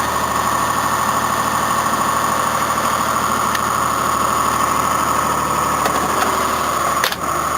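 A Datsun car engine idles steadily on a cold morning, a continuous close mid-pitched hum with a faint vibration, running alone without speech and with a brief knock near the end.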